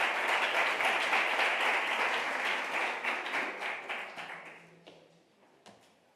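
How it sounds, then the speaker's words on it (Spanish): Applause from a conference audience for two presenters at an event on olive groves and biodiversity, a full burst of clapping that thins out and dies away to a few scattered claps, with a voice briefly under the tail. "Un fuerte aplauso para Pedro y Rubén"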